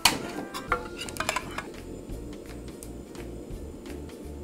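Cucumber and Japanese yam stir-fried over high heat in a pan, with clinks and scrapes of cookware and utensils, sharp at first and then a steady low sizzle.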